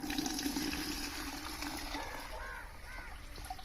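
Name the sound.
liquid pesticide mixture being strained through a sieve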